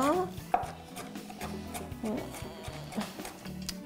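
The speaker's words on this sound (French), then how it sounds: "je vais hacher l'ail" A kitchen knife finely chopping garlic on a board, with quiet irregular taps and a few sharper knocks close by. A voice murmurs faintly underneath.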